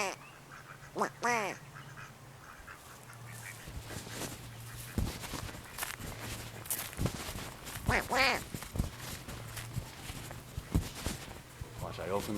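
Ducks quacking close by in several short bursts, mixed with people talking and a steady low hum in the background.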